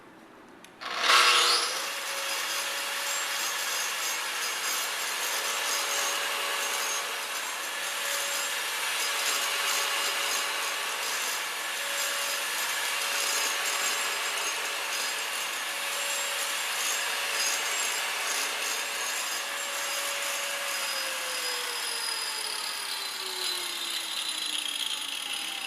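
Stone-shaping machine grinding a radius edge on a granite countertop, a steady loud sustained grind with a constant whine that holds for the whole span and bends lower near the end, no voices.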